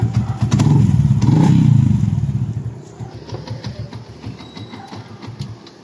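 Yamaha Sniper 150 motorcycle with a modified exhaust, rattling and revving with a choppy, helicopter-like flutter, loud for the first two seconds, then dropping to a quieter, uneven idle with sputtering pops.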